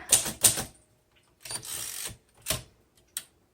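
Typing on a 1942 Royal Quiet DeLuxe manual typewriter: sharp, close keystrokes, two quick strikes followed by a short burst of rattling clatter and a few more isolated key hits, with pauses between them and no talking.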